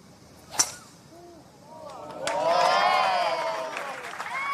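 A sharp tee shot crack at a golf event rings out, then a crowd's applause and cheering swells and carries on for a couple of seconds.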